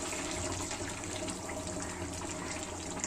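Water pours steadily into a cooking pot of simmering meat curry, a continuous splashing rush heard close and alone for about three seconds.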